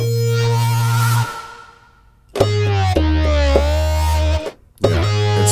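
A distorted Omnisphere synthesizer patch holds buzzy, sustained notes in three phrases separated by brief gaps, loud and close.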